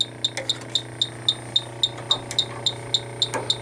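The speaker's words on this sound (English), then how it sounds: "typically the leak detector starts going bananas whenever there's a leak" A refrigerant leak detector held near an air conditioning coil beeps in a rapid, regular series of short, sharp tones over a faint steady hum.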